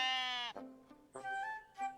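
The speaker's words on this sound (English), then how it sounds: "Time to pet our first sheep." Sheep bleating in the video game Tiny Glade: two long, wavering, nasal bleats with a short pause between, close and clear, then a brief rising third call at the end.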